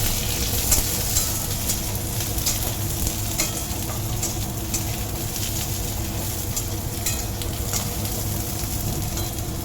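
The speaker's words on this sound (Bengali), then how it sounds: "পেঁয়াজটা দিয়ে একটু ভাজা ভাজা করে নেবো।" Chopped onions fry for chilli paneer in a pan with a continuous close sizzle and crackle. Soft spatula scrapes and stirring strokes come through now and then, with no talking.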